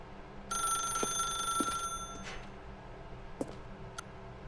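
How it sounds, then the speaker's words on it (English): A telephone rings in the video game The Stanley Parable, a bright ringing tone in the first couple of seconds followed by a few scattered clicks and taps, faint and quiet throughout. "Now pick up the phone, said the bucket."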